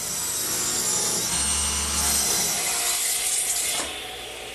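Power saw ripping strips 1 5/8 inches wide from a 2x4, a loud whining cut with a rising motor hum in the middle, fading as the blade winds down near the end.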